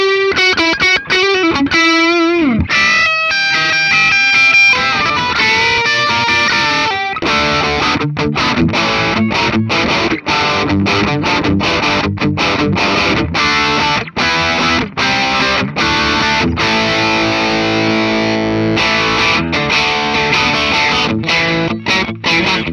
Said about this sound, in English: There's some nice lead tones out of this neck pickup.